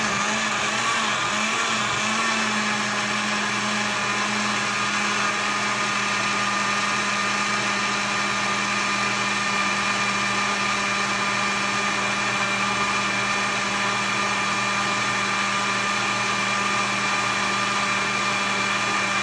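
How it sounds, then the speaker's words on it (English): A blender whirs steadily and loudly as it purees soaked sea moss into gel, a continuous motor drone with a faint higher whine that runs unbroken throughout, with no talking. "So now I'm gonna start blending."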